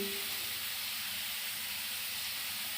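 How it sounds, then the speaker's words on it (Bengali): Chopped onion and garlic fry in hot oil, producing a steady, even sizzling hiss that stays constant throughout at a moderate, close level. "দিয়ে দিলাম পেঁয়াজ এই দিলাম রসুন"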